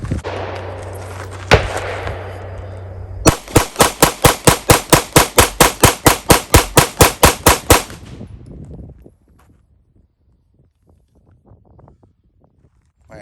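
A .22 Magnum pistol fires a rapid mag dump at an outdoor range, a single loud shot followed by a fast, evenly spaced burst of about sixteen sharp cracks, then quiet with faint rustling.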